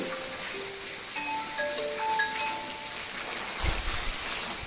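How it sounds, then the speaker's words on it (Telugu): Steady heavy rain hissing continuously, with faint tones drifting over it and no voices. "ఫుల్గా రెయిన్ రావడంతో ఇంకా చేసేదేం లేక ఇంకా కూర్చున్నాము"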